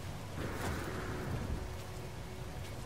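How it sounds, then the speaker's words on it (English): Acid rain falling in the space exploration game No Man's Sky, a steady hiss of rainfall with low rumbling underneath, continuous and fairly loud throughout with no voices. "that's what happens when acid rain takes over"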